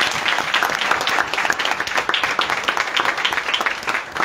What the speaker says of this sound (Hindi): ताली बजा के धन्यवाद करें